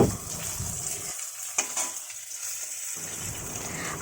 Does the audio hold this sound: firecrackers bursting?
no